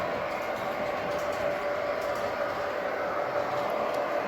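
A train rolling along a railroad track, a steady continuous rumble with a faint tonal hum, moderately close and unbroken throughout, with no clear clickety-clack rhythm.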